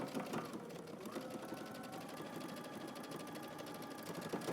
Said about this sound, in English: now we're gonna do some top stitching before we attach it to our pocket